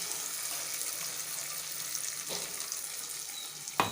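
Ground coconut is poured into a prawn curry frying in a pan, a steady sizzle with a wet, pouring wash and a couple of sharp clinks near the end, close and alone.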